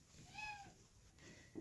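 A pet cat indoors lets out a single short, fairly close meow near the start, then only quiet room sounds and a faint knock at the end.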